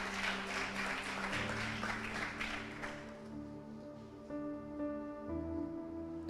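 A church congregation applauds the participants of a leadership course, giving dense clapping for about three seconds that then fades as sustained instrumental music continues underneath.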